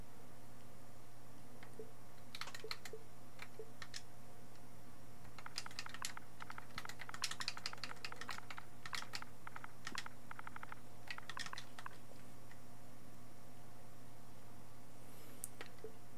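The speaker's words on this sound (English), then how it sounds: "let us type football" Quiet bursts of keyboard typing entering a search while navigating menus on an Xbox console, clusters of soft rapid key clicks separated by pauses over a steady low hum, no talking.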